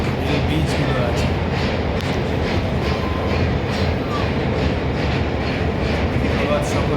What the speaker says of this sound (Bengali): কৃষ্ণ নদী মালগাড়ি এবং ট্রেন গাড়ি যাতায়াত, এই ব্রিজগুলো আছে